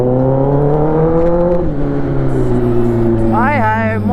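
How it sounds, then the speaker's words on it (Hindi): A V8 car engine starts and revs in a residential neighborhood, a loud, deep, steady rumble with a pitch that rises and falls. A brief sharp whoop of quick revs comes near the end. "ये देखो गाड़ी स्टार्ट होती आ गया, V8 चालू हो गया"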